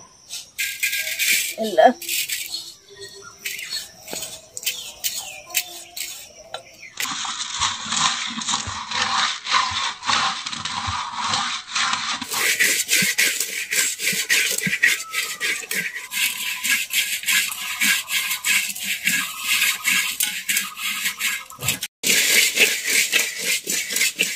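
Rice grains rattling and hissing as they roast in a hot pot of sand for puffed rice in a village kitchen, a steady dense rasping rattle that runs continuously at close range with brief shifts in intensity.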